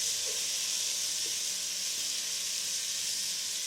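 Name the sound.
tomatoes, chilies, onion, ginger garlic paste sautéing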